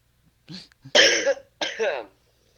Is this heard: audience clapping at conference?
no